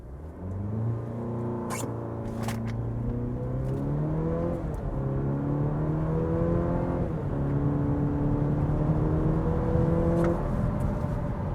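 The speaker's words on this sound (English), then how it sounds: "let's see what this feels like launching from a standstill here" A 2025 Cadillac CT5 launches hard from a standstill in sport mode, its engine note climbing loud and close through several rising sweeps as the car gathers speed, with brief shift breaks between pulls.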